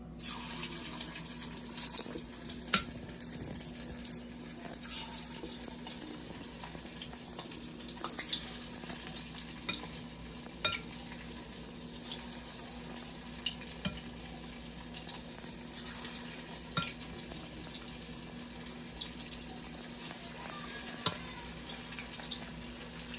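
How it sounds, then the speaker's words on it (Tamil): Marinated salmon fish 65 kebab pieces frying in oil, giving a steady, even sizzle with small crackles and pops throughout, close and moderately loud. "இப்போ இதை பொரிக்கிறேன்."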